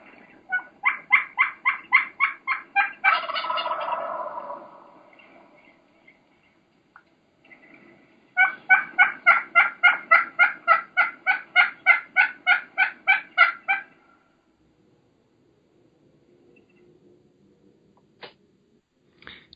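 Wild turkey giving rapid, aggressive yelping calls, heard close and clear: one quick string of yelps, a short pause, then a longer run of evenly spaced sharp yelps before quiet.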